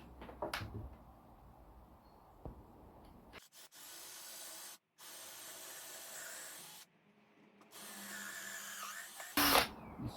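A power drill whirs steadily in long bursts through wood, stopping and restarting, with a few knocks and clatters before and a sharp burst near the end.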